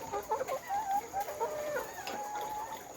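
Chickens on a poultry egg farm clucking and calling in short, irregular bursts at moderate distance, over a faint steady hum and with no talk.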